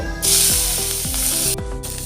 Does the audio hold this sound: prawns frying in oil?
yes